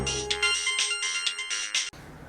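Mobile phone ringtone playing a bright, repeating electronic melody at close range, ending abruptly.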